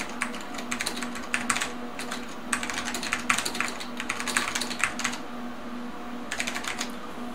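Brisk typing on a Xerox 6085 Daybreak computer keyboard, irregular bursts of clicky keystrokes with short pauses, close and moderately loud over a low steady hum.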